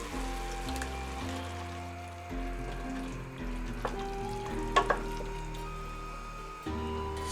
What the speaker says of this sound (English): Add the coconut milk.